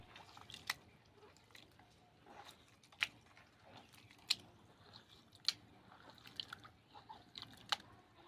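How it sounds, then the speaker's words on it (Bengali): Watermelon flesh squeezed and mashed by hand in a bowl of water, giving soft, irregular squelching and wet crunchy squishes with occasional sharper clicks, fairly close and quiet throughout. "সব আমার শাঁসগুলো তরমুজের ছাড়িয়ে জলের মধ্যে দিয়ে দিয়েছি। দিয়ে হাতে করে আস্তে আস্তে চটকে নেব।"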